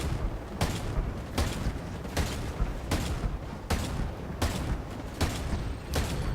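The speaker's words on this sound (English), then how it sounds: "So that actually went ahead and gave me the 5 kills I needed with the grenade launcher" Repeated grenade launcher blasts in Ghost Recon Breakpoint, a steady series of loud booming explosions roughly every second, close and dense, with no voices over them.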